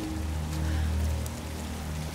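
Steady storm rain hisses in Tomb Raider, soft and continuous, with a low droning hum underneath and no voices.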